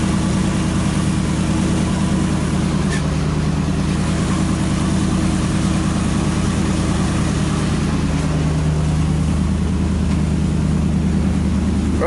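A Volvo Penta marine engine holds a steady drone at about 1200 RPM while the boat cruises near 7 mph under load testing, loud, continuous and close, with no talking.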